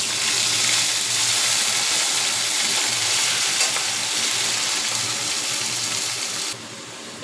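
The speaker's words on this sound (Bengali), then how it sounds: "এই তেলে আমি মাংসটা দিয়ে দেবো, দিয়ে মাংসটাকে ভালো করে কষাবো।" Pieces of country chicken fry in hot oil, a loud, steady close-up sizzle with stirring scrapes throughout that drops off abruptly just before the end.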